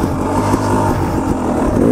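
A KTM 300 XCW two-stroke dirt bike fitted with winter grip studs revs hard during a wheelie, a loud, close, continuous engine roar with no voices.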